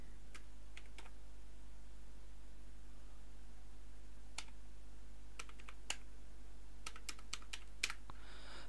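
Keys on a computer keyboard are tapped in scattered clusters of crisp clicks while a date is entered into an online registration form, quiet and close over a steady low hum.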